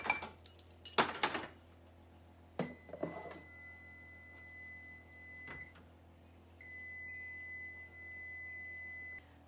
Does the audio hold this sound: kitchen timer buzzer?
yes